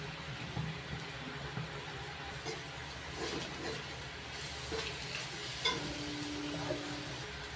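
Ground cumin, coriander and dried chilli powder frying in a pan while being stirred, a low steady sizzle with soft spatula scrapes and an occasional clink, quiet and without voices.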